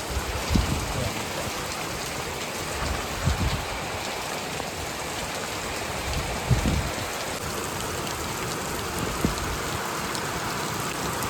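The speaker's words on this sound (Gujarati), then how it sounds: "વરસાદ ગજબ પડે હો" Heavy rain pours steadily through the night in a village in Botad, with gusty storm-like wind, a dense continuous hiss broken by a few louder splashes, with no voices.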